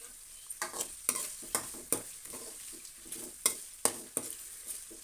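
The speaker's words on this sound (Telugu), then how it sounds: "ఈ ఉల్లిగడ్డ వేగేటప్పుడు కాస్త ఉప్పు వేసుకుంటే తొందరగా వేగుతుందండి" Onions frying with salt in a pan, sizzling steadily while a spoon scrapes and stirs in repeated sharp strokes about every half second, close and loud, with no talk.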